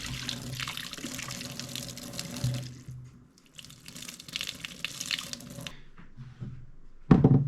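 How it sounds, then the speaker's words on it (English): Cold tap water runs steadily into a pot of pork spare ribs for sweet and sour pork, a continuous close splashing stream with a pause midway and a sharper clatter at the end. "Now we're gonna put some cold water in here."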